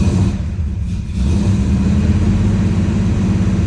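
A warmed-up 1969 Plymouth Roadrunner engine revs loudly up close, dipping briefly before surging into a sustained, throaty roar.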